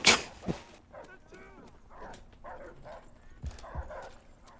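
Barking from a dog in an old-school Call of Duty match, a few sharp game-audio barks and yelps mixed with gunfire-like bursts, with a player talking throughout.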